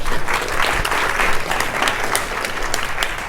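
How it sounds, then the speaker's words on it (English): Audience applause during a physics colloquium lecture, a thick continuous patter of many people clapping together, close and steady for a few seconds, with no one speaking over it. "You don't have to clap at every slide"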